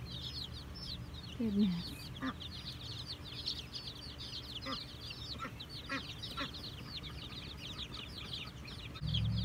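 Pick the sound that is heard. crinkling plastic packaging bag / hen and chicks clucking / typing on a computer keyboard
hen and chicks clucking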